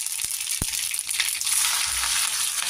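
Cumin and mustard seeds frying in hot oil, a steady close sizzle with a few sharp pops and crackles, no voices.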